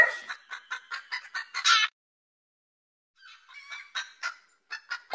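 Cartoon chickens cluck and squawk in quick bursts, a run of sharp repeated calls, then a brief silence before more clucking resumes, close and clear.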